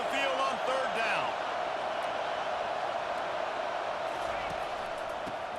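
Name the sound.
home crowd cheering in NCAA football video game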